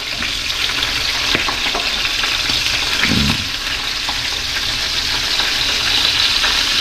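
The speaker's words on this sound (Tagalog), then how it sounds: "Prito na po natin yung ating salinyasi." Small salinyasi fish frying in oil in a wok-style pan, a loud continuous sizzling crackle with a brief low clatter midway as the pieces settle.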